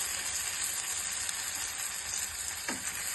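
Raw banana slices fry in a pan with a steady, dense hissing sizzle that carries on unbroken. A single brief swish comes near the end, and no one speaks.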